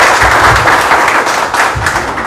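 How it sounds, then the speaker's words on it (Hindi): A crowd at a Gorakhpur news event claps loudly to welcome Vinay Shankar Tiwari, a thick, close burst of applause with a few heavy thumps, fading slightly toward the end. "विनय शंकर तिवारी हैं, इनका जोरदार तालियों से लोग स्वागत करें।"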